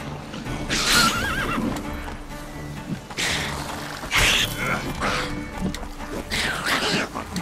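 A horse in The Witcher 3 gives several loud, shrill whinnies amid clip-clopping hooves and game ambience, with a player talking over parts of it.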